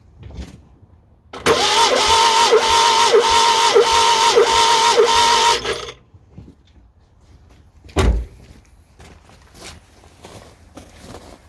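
A Fiat 500 engine cranks over on the starter during a compression test, a loud rhythmic churning of even pulses lasting about four seconds, then stops, followed by a sharp thud and quieter clicks and handling noises.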